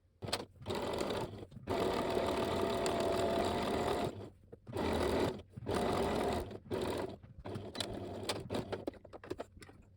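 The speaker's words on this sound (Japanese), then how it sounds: "ここから1センチのところを縫っていきます。" A sewing machine stitches a seam 1 cm from the fabric edge on a sleeveless kimono-style costume, running in loud steady bursts of whirring stitches separated by short pauses.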